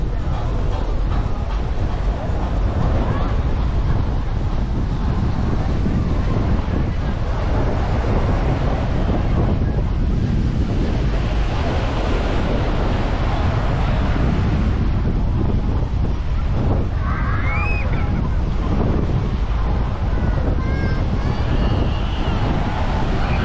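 Strong wind buffets the microphone at Coco Beach in Dar es Salaam on a rough-sea day, with a steady broadband roar of surf and gusts filling the whole stretch, loud and continuous, and faint voices briefly audible.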